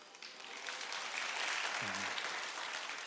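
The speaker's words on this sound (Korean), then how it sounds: "박수는 안 쳐도 되는데 박수까지 쳐주시고 감사합니다" Church congregation at a young adults' worship service applauding, a soft, distant, steady patter of many hands that swells slightly and holds, with a brief low murmur partway through.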